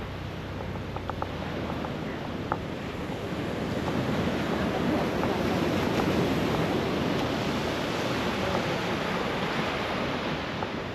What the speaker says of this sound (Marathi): अथांग समुद्र आहे, अथांग समुद्र.